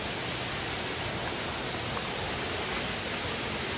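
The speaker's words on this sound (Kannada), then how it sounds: "ಇದೇ ಅಬ್ಬಿ ಫಾಲ್ಸ್" Heavy water pours over Abbi Falls at Magajahalli in a dense, constant roar of rushing, crashing water that fills the scene without pause, loud and close, with no voices.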